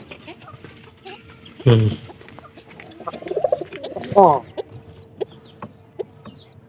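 Pigeons kept in a Bengali household loft give soft coos and calls, with high bird chirps scattered throughout and a few louder bursts, while a man murmurs briefly.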